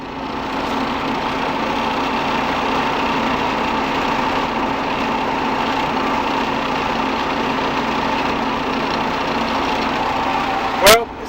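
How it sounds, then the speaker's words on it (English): A John Deere 3300 combine's engine idles cold at low speed, a steady, loud mechanical drone that holds unchanged throughout, with a brief sharp knock near the end. "it's idling about 800 RPM. It's still a cold motor."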